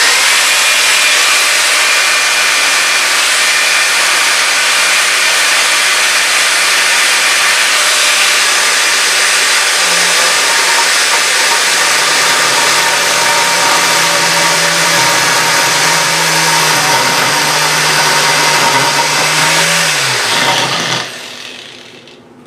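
An Arbortech ball gouge on an angle grinder cuts into a long, flat piece of walnut at raised speed. A loud, steady high-pitched grinding whine carries a low motor drone that dips under load, then cuts off abruptly near the end.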